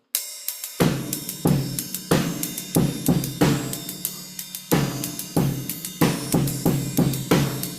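A drum kit plays a steady groove of bass drum, ride cymbal and snare backbeat on 2 and 4. The hits are sharp, loud and close, evenly spaced and repeating, with no talking.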